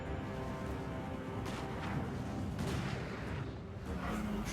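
Distant artillery fire rumbles through a battle in the real-time strategy game Dwarfs, a steady low barrage of booms and crackling impacts lasting throughout, fairly faint and without speech.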